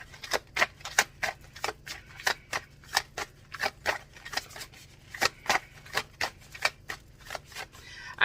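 Tarot cards shuffled by hand in a quick run of crisp, riffling slaps and flicks, about two to three per second, close and steady over a faint low hum, with no talking.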